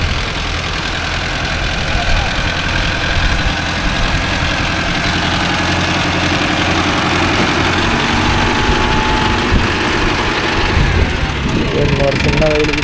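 A Mahindra Arjun Novo 605 DI tractor engine idles and rumbles steadily close by, a continuous low mechanical drone with people talking over it throughout.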